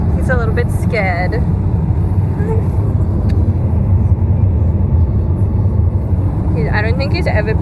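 Steady low rumble of a car interior while driving on a rural road, engine and road noise continuous under occasional brief high-pitched sounds and voices near the start and end.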